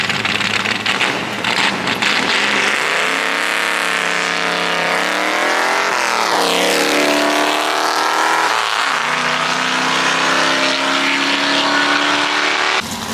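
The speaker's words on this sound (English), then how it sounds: "Maybe an old ass NASCAR. They bought it and they put an LS in it." Old NASCAR-style race car fitted with an LS V8 and big cams, revving hard at a track: a loud, rough, close engine drone that climbs and dips through several sweeping rev changes, raw and rowdy throughout, with no talk.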